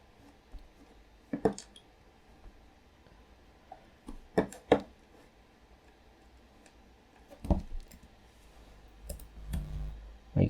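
Mouse clicks while working in the AWS DynamoDB web console, a few sharp, isolated clicks spaced seconds apart over a faint background hum, close to the microphone with no voices.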